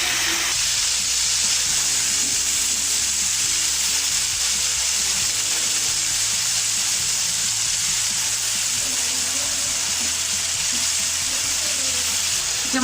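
Spices for chana chaat frying in a pan, a continuous bright hiss and sizzle that stays loud and even throughout, with faint low kitchen rumble beneath and no talking.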